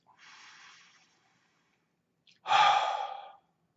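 A person takes a deep breath, a soft airy inhale followed after a short pause by a louder, fuller exhale, close and alone in a quiet room.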